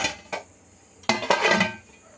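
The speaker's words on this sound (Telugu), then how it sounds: "ఇప్పుడు మూత పెట్టేసుకుందాం." A lid is set onto a pot of egg Maggi noodles cooking on the stove: a light metallic tap, then a louder clank and a short rattle as it settles, close by in a quiet kitchen.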